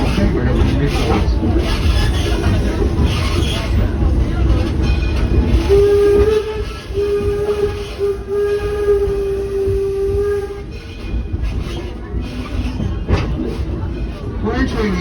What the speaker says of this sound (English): The No. 7 is one of 3 coal-fired steam-powered locomotives that pull our trains here at Greenfield.